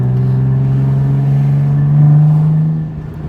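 A straight-piped Nissan 300ZX exhaust drones loud and close, its pitch rising steadily as the engine revs, with a slight crackle near the end.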